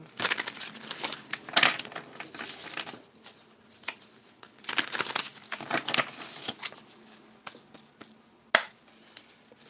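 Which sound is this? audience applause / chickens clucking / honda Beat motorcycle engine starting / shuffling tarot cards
shuffling tarot cards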